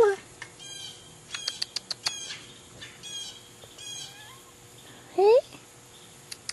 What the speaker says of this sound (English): Look at the cat here.